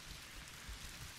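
Steady rain hisses in The Witcher 2 video game, a soft, continuous wash of drops with faint low rumbles underneath and no voices.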